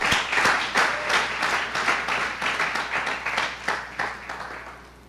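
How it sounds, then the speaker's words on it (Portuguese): A church congregation applauds during a service, dense sustained clapping that fades gradually toward the end, with no talking over it. "E aplauda ao Senhor com o seu melhor"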